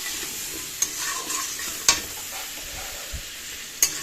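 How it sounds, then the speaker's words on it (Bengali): Potatoes fry in a pan with a steady soft sizzle, punctuated by a few sharp scrapes of a spatula stirring at close range. "আলুটা ভেজে নিয়ে তারপরে হচ্ছে মশলাটা দেবো।"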